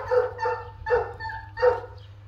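Beagles playing in a backyard give three loud, close barks in an uneven rhythm over a low steady hum.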